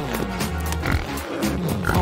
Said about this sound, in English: It's Jimmy the pig